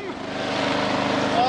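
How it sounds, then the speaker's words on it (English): A ride-on lawn mower tractor cutting grass gives a steady engine drone that builds slightly, close by, with excited voices over it. "Me tractor! Mowing the lawn!"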